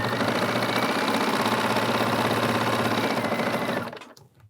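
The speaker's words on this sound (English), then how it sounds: "You just can keep on sewing." Sewing machine stitching fabric tubes, a rapid close mechanical chatter running at steady speed before slowing and winding down to a stop near the end.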